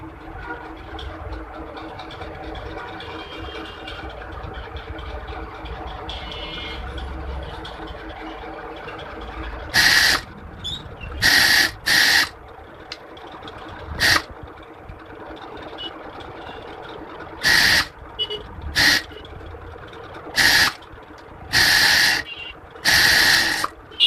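A sewing machine stitches an elastic-waist salwar pant, running in a string of short, loud bursts with brief pauses after a stretch of steady low background hum.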